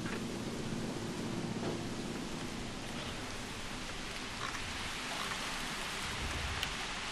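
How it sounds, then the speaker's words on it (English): Steady rain hisses evenly and softly in the video game Jurassic World Evolution, a continuous wash of falling drops with no talk. "Oh god, it's raining."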